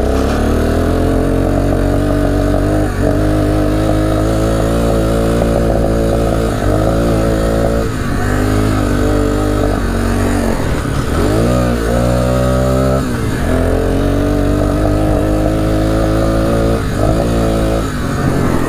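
An ATV engine with a faulty electric start runs loudly and steadily throughout, with repeated revs and throttle dips, its strong low rumble heard close up with no talk over it.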